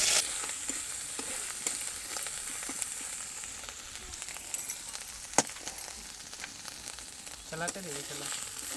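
Rice and ber berries stir-fried in a pan in a Ho Adivasi kitchen, with continuous close sizzling, scraping stirs and occasional sharp clinks of the utensil against the pan.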